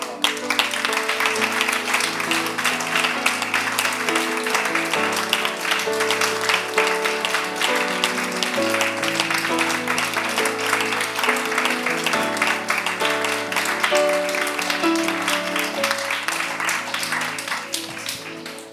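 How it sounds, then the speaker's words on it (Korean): Applause from a church congregation clapping together during a worship service, a steady, dense wash of many hands with music playing underneath throughout. "우리 손을 들어서 하나님께 축복의 박수를 올리면서"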